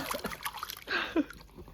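A small child splashes water in a paddling pool, with quiet scattered splatters and light trickling close by, followed by one brief heavier splash.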